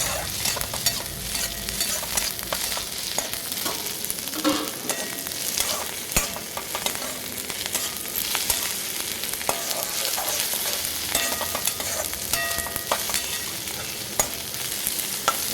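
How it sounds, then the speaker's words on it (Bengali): Flattened rice pulao with grated coconut, raisins and cashews sizzles in a pan while a spatula stirs and scrapes, giving a constant bright frying hiss broken by frequent clinks and scrapes, with no one talking. "তারপরে নারকেল কুচি আর কিশমিশ কাজু বাদাম দিয়ে দেবো এটাকে একটু মেরে নেবো"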